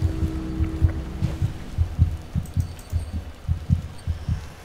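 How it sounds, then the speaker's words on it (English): Steady thumping heartbeat in the horror game Among the Sleep, a rhythmic pair of low thuds repeating about once a second, muffled and close, alone under faint wind-like ambience. "The heartbeat, I can hear it."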